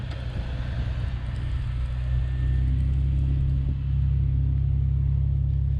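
Jeep Cherokee XJ driving on ice in four-wheel drive, a steady low engine rumble with a droning hum that firms up midway, continuous and fairly close, no voices.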